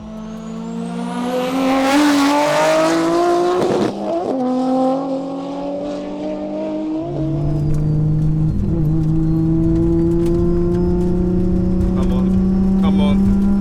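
A Nissan R32 GTR and a Subaru Impreza rev and idle loudly nearby, with a steady engine drone rising in pitch through repeated throttle blips and no speech.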